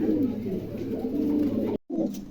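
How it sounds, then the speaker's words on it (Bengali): A pair of white exhibition homer pigeons cooing steadily at close range, low rolling calls that continue almost without pause and break off briefly near the end. "চমৎকার এক জোড়া কবুতর"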